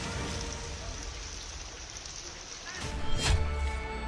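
Heavy monsoon rain in the Himalayan hills of Himachal Pradesh and Uttarakhand pours as a dense, steady hiss, with a louder surge and rumble near the end.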